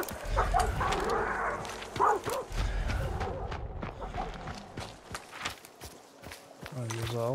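Dogs bark and yip in Hunt: Showdown 1896 amid footsteps and movement sounds, with a person talking over much of it.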